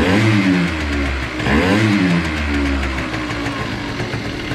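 A restored Rocket motorcycle engine running close by, with a few sharp revs rising and falling over a rough mid-pitched idle, loud and alone.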